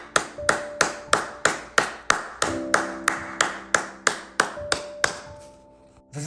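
A single person claps slowly and deliberately, about a dozen sharp, close claps at a steady beat with faint background tones between them, stopping near the end, tied to the France vs Senegal match.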